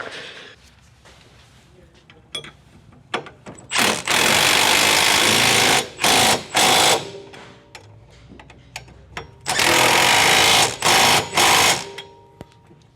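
Power tool tightening a bolt on an S13 240SX angle kit with heim joints, loud whirring bursts in two clustered groups of several short runs each, separated by quieter gaps.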